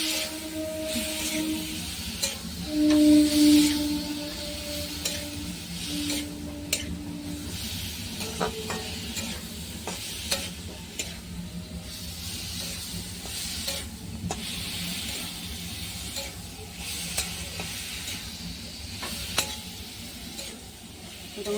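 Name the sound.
stirring food sizzling in a frying pan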